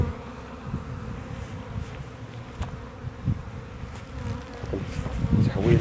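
A large honeybee swarm drones loudly and continuously during extraction from a hive box, a dense, close buzz with scattered knocks and handling sounds throughout.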